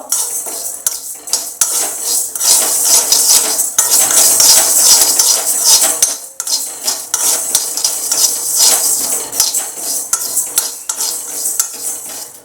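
Mustard, fenugreek and cumin seeds sizzle steadily in hot oil for a fish pickle while a spoon scrapes and stirs them around the pan, a continuous close, fairly loud frying crackle with repeated metallic scrapes.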